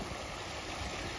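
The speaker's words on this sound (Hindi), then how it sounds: "जैसा कि उस साइड में झरने का पानी है इधर से आता है" Water from a waterfall rushes steadily at Dhubri Rangamati, a continuous broadband roar with no breaks or voices.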